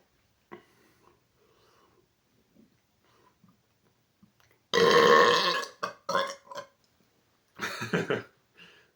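A person burps after drinking Coke Zero Cherry Float, with faint breaths and small throat sounds before one long, loud belch, then a few shorter rough belches and a final burst.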